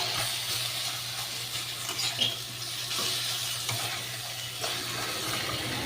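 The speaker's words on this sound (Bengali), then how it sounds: "দেখো বন্ধুরা, পালং শাকটা হচ্ছে" Spinach with green chilli sizzling and frying in a pan, a steady close hiss with faint stirring scrapes running continuously throughout.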